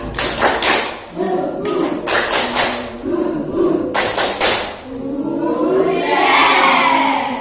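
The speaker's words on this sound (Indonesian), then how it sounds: "Ayo, tepuk semangat." A primary school class of fifth graders does a rhythmic spirit clap together, bursts of claps in a patterned beat with group chanting voices, ending in a swell of crowd noise.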